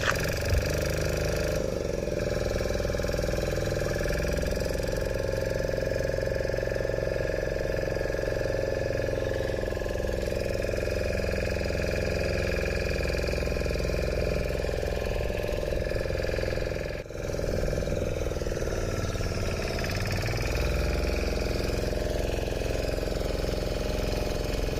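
A boat engine drones steadily at sea while towing another boat, a constant mid-pitched mechanical hum with a brief dip near the end, running alone throughout.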